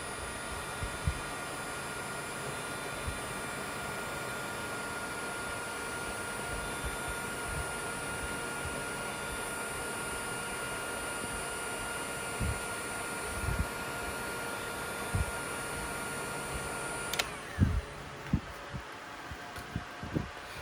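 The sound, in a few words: heat gun shrinking heat shrink tubing on wire connectors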